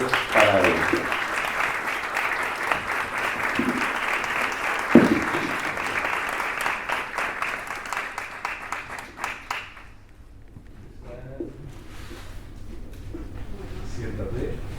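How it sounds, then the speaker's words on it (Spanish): Audience applause at an academic awards ceremony, loud sustained clapping for about ten seconds that then drops away, leaving scattered claps and a voice speaking over the room. "Un aplauso muy fuerte para ella."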